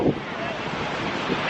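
Strong wind buffeting a camera microphone at a beach in Baler, Aurora, a steady loud rumbling roar with surf mixed in underneath and no clear speech.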